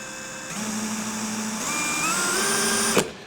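A DEWALT Atomic 20V brushless compact 1/2-inch drill/driver spins up in drill mode with a steady motor whine that rises in pitch partway through, then cuts off sharply near the end; close and loud, with no talking.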